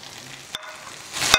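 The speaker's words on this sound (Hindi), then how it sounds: "इसको अच्छी तरह से फ्राई कर लेंगे।" Cabbage hits a hot pan for chicken chow mein, giving a steady soft sizzle with two sharp stir clacks, one near the middle and a louder one at the end, the frying swelling slightly toward the close.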